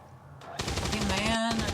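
Gunfire from XCOM 2, a quick rattling burst of shots that cuts in sharply, up close and loud, with a voice talking underneath.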